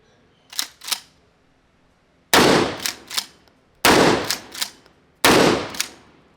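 A shotgun with a wooden stock fires three loud, sharp blasts, each trailing a short echoing decay, after two smaller mechanical clacks at the start; close and forceful, with no talk.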